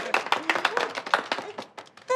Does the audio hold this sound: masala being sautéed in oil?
no